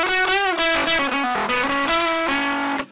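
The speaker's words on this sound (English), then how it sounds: "Very classic, crunchy kind of tone." Electric guitar played through a crunchy OD808 overdrive pedal, ringing out sustained distorted chords and notes loud and close for about three seconds before cutting off abruptly.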